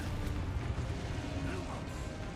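A Confringo fire spell bursts in Hogwarts Legacy, a heavy rumbling boom with crackling debris that stays loud and dense for a couple of seconds.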